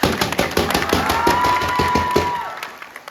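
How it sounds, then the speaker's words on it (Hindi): An outdoor audience claps at a street play about voter awareness, a quick burst of scattered claps that fades after a few seconds, with a thin whistling tone running partway through. "चलो आप बजाओ ताली"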